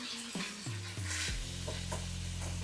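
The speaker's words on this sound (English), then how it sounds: "let's give this a quick stir here. Got to keep it moving. I don't want to burn it, but I want it to get brown." Taco meat browns in a hot pan with a steady sizzle while a spoon scrapes and stirs it in several quick strokes, close and clear.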